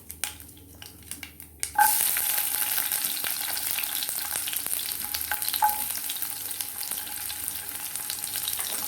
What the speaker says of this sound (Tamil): நல்லா பொறிஞ்சிட்டு அடுத்தது வெங்காயம் போடுவோம்